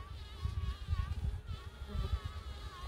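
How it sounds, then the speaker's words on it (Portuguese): Bees buzz around a wooden beehive box, a soft, steady droning hum with no voices. "Agora espera as abelhas recolherem um pouquinho para dentro da caixa."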